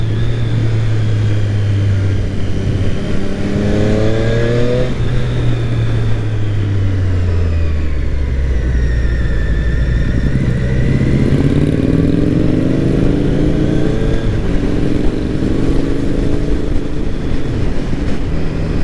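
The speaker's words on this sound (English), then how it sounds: "Lovely exhaust, torque on the lower rev." A motorcycle engine and exhaust during a weekend road ride, loud and close, with the pitch rising and falling through gear changes and revs, wind noise underneath.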